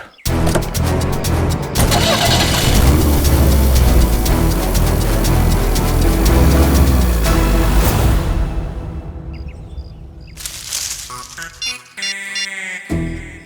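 A car engine starts up and roars loudly before the car pulls away, the sound fading off into the distance, followed by a few scattered knocks and faint noises.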